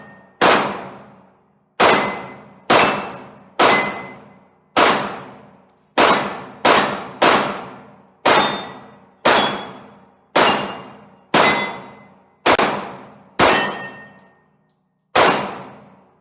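A stock Glock 22 Gen 3 fitted with a 40-to-9mm conversion barrel fires at steel targets about 18 yards away, sounding fourteen sharp, loud reports that ring with metallic clangs. The shots come at an uneven pace, roughly one per second, with no talking.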